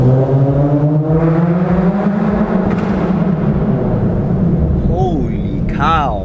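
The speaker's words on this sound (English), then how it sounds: "We're gonna be in first gear getting inside this garage." An Infiniti G37S creeping in first gear into a garage, its engine droning loud and close with shifting tones, while a person talks over it.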